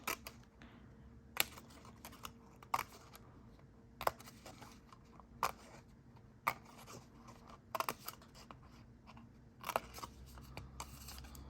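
Scissors trim excess orange paper in a quiet room, making soft, close snips and clicks that come at irregular intervals, with no talking.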